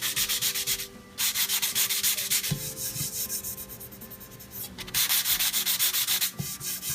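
Hand sanding scuffs the finish on a wood-stained cabinet door, close and loud rasping strokes in a steady back-and-forth rhythm with brief pauses between passes.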